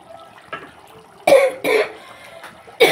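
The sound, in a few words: coughing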